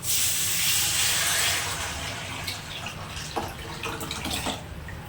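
Pre-mixed water poured all at once into a hot pan while making Rayalaseema-style black-eyed pea rasam, a loud broad hiss and steam rush that gradually settles into softer bubbling with a few light clinks.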